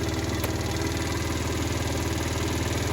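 A Chinese scooter engine keeps idling after its key is switched off, a close, steady mid-pitched putter with an even rapid pulse and no talking.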